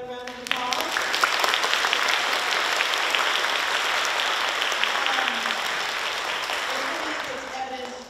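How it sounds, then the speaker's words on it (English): Sustained applause from an audience at a secondary school winter music concert, dense steady clapping filling the room for about eight seconds, with faint voices and a few shouts mixed in. "Let's give them another round of applause."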